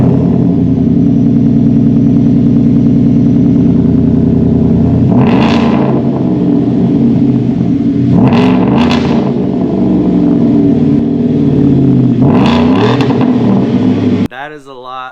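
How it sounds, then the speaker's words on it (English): A Ford F150 with a Whipple supercharger and straight-piped exhaust idles loud and close indoors, then revs in three sharp bursts with crackling and popping between them, a voice talking at the end. "That is a lot of cracking and popping, and you may not get that same exact sound if you don't have the Whipple supercharger on there"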